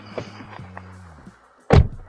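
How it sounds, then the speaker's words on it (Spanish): Rear door of a Livan X3 Pro SUV shuts with a single close, solid thud after a quiet stretch of faint interior sounds. "cierro puerta"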